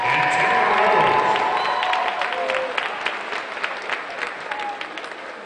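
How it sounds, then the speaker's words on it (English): Crowd in a gym at a Tusculum University women's basketball game against Wingate gives a loud round of applause with some cheering that gradually thins into scattered claps, while voices carry over the hall. "giving a round of applause for our senior Spirit Squad members, Jonathan Taylor and Taylor Rhodes"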